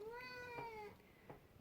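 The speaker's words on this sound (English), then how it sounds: "that's my cat" A pet cat meows in two quick, drawn-out tonal cries, then gives a fainter third call, heard up close indoors with no talking.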